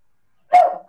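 A small dog gives one sharp, close bark that trails off quickly, with the start of a second bark cut off at the end, in an otherwise silent moment.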